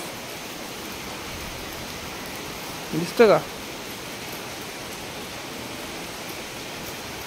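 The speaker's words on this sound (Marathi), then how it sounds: "बघा पाऊस" Heavy rain falls steadily as a broad, even hiss throughout, with a short spoken question cutting in briefly midway.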